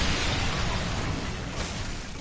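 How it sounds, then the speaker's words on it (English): A large, sustained explosion in the dark fantasy action game Bloodborne roars as a dense, loud blast that stays full and rumbling throughout, with a slight surge partway through. "Otherwise, the explosions will kill you."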